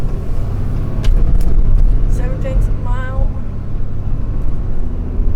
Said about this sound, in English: I got a whole herd of cars coming at me.